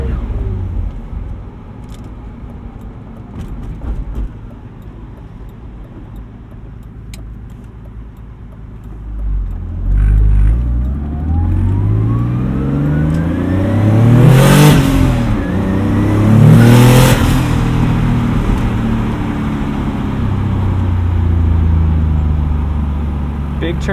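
A big-turbo 1995 BMW 325i pulls hard from inside the cabin, engine note climbing steadily with a rising turbo whoosh and transmission whine, two loud swells near the end.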